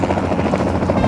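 A civil helicopter flies close and loud, its rotor throbbing in a steady rapid beat over a dense engine roar.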